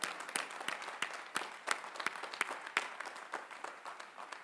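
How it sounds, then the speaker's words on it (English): A graduation audience at Northeastern University's 2021 ceremony applauds golden graduates with sparse, distinct handclaps at a steady, moderate pace, fairly quiet and distant, with no voices over it. "Please give them a round of applause,"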